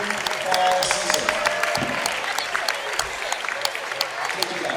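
Applause for a high school's fall athletes, a moderate crowd clapping steadily with sharp individual claps standing out, fairly close and even throughout.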